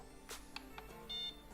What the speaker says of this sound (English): You get a beep sound and a green light,